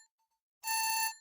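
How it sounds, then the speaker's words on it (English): In the video game Night Cascades, a telephone rings with one bright, electronic burst lasting about half a second, preceded by faint quieter chirps, clear and alone with no talk. "that's not my alarm, that's the phone"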